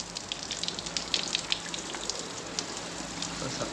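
A newly fitted outdoor shower runs, a steady broadband spray of water pattering onto a surface, close and even throughout.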